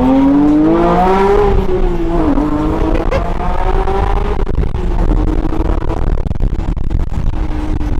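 Porsche GT3 sports car with a manual gearbox accelerating hard, engine pitch climbing through revs with a shift and then pulling again, loud and close, with some tire and road noise and no talking.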